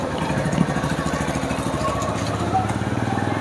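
A new toto electric rickshaw runs with a steady, close motor whir and rattle in an even pulsing rhythm, nearly continuous throughout.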